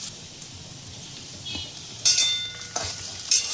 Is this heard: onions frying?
yes